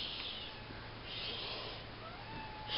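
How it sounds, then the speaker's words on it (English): A cat meows faintly a couple of times, the soft calls rising and falling beneath steady room hiss while a Halloween card is being crafted nearby. "I don't know if you can hear my cat"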